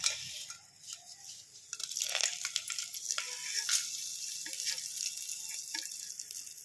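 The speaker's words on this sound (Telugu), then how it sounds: "ఇప్పుడు ముందుగా మనం లవంగాలు, ఈ మసాలాను మనం అందులో నూనెలో వేసుకోవాలి." Cloves, cinnamon, cardamom and other whole spices dropped into hot oil for egg biryani: a soft, crackling sizzle with scattered light pops that carries on steadily after a brief start. No talking.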